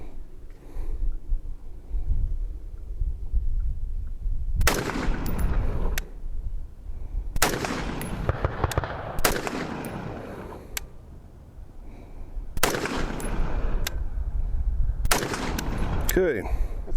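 A handgun fitted with a Monstrum Ghost red dot and magnifier combo fires several loud, sharp shots in close succession at a target at the range, spaced in small bursts with quiet gaps between.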